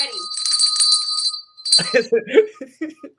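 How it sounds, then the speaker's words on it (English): A studio bell that looks like a pink cowbell rings out clearly, a bright ringing tone lasting over a second, then people talk and laugh right after it fades. "I missed my studio bell. I've been waiting to do that."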